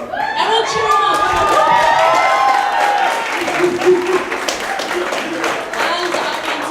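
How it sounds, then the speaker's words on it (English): Crowd applauding and cheering at a Lush live event, loud clapping mixed with excited whoops and shouts, a voice audible through the noise. "Everyone cheer him up."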